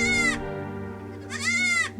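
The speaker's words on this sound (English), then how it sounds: "Goats." Goats in a rural village bleat twice in quick succession, two loud wavering calls close by with a short pause between them and no talking.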